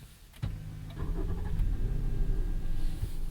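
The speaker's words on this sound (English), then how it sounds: "And I do love the sound of that starter motor." A Toyota Alphard Executive Lounge (AH30) van cranks briefly on its starter motor before the engine catches and settles into a steady, close idle, with no talk over it.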